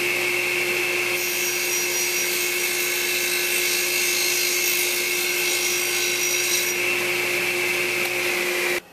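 A table saw rips a square wooden stick in one steady, loud cut, its motor whine and blade tone holding evenly for about nine seconds before stopping abruptly at the end.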